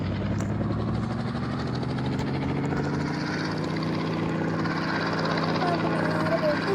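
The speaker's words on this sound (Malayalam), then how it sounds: "ഈ ഹെലികോപ്റ്റർ നമുക്ക് കാട്ടി കളഞ്ഞേക്കാം" Helicopter in the mobile game Indian Bike 3D, a continuous whirring rotor drone with steady engine tone, loud and constant under someone talking.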